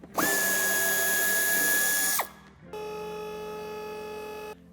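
Power drill or driver backing out 8 mm head screws holding the bumper of a 2020 BMW iX3 G08, one loud whirring burst, a brief pause, then a second steadier run, close and without speech.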